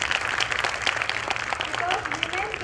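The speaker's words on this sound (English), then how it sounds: "she deserves a round of applause for it" A seminar audience breaks into applause, a dense, even patter of many hands clapping at moderate loudness for a couple of seconds, with some voices mixed in.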